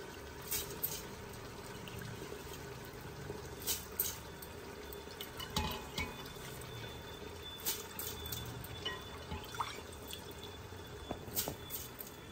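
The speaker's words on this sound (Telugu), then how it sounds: "ఇవి డబల్ నీళ్ళు పోసుకుందాం అనమాట" Water poured onto soaked rice in a pressure cooker while making chicken pulao, a quiet, steady trickle with a few drips and splashes and no talking.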